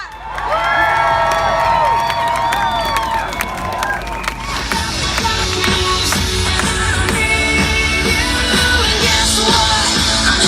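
A large pro-life rally crowd outdoors roars with sustained cheering, whoops and shouts, applause clattering through the din for the full stretch, loud and continuous with no pauses.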